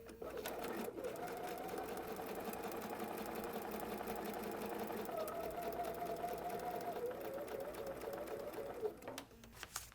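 A sewing machine stitches foundation paper piecing in a steady, continuous run with its rapid mechanical whir, a brief pause near the start and a stop near the end.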